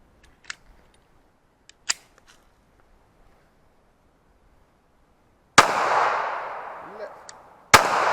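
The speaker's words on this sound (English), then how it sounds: "Put 6 hits rapidly on the steel." Glock 42 pistol rounds fired in quick succession at a steel target: a few sharp cracks early on, then two louder close shots with ringing decay later, in an outdoor setting.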